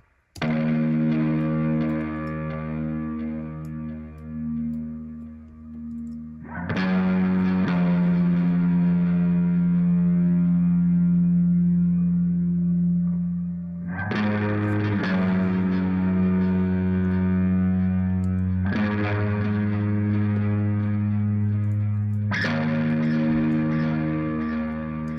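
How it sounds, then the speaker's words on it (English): Guitar melody of the protagonist theme, a film score motif, played alone with heavy effects and distortion, sustained chords ringing and changing every few seconds over a steady, loud, reverberant tone. "the protagonist theme is basically just this guitar melody."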